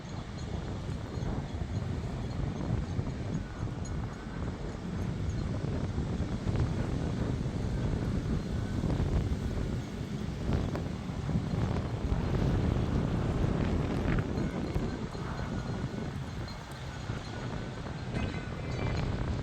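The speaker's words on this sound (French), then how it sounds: "Il y a un sacré vent." Strong wind gusting during a thunderstorm in the Belledonne mountains, a broad continuous rushing roar buffeting the microphone, loud and unbroken throughout.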